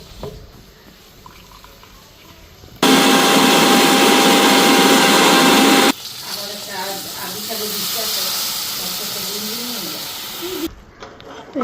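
Mustard seed, green chilli and ginger being ground into a paste in an electric grinder, heard as a loud, steady whirring roar lasting about three seconds, followed by a quieter stretch where someone talks.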